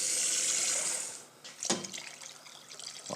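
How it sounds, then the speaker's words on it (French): Water pours steadily into a sauté pan holding squash, a continuous splashing rush that eases off and gives way to softer sizzling and trickling. "Donc maintenant, je vais mouiller avec de l'eau."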